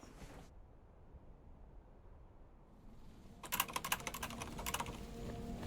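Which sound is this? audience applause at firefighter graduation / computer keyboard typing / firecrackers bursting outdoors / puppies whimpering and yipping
computer keyboard typing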